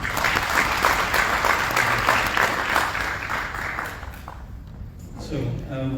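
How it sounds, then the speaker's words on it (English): Audience applause for a guest at a conference session on finance, a dense steady patter that fades toward the end as a voice begins speaking. "can you please give my guest a round of applause?"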